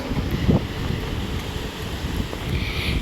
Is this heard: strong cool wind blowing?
yes